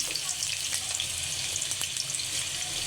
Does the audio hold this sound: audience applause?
no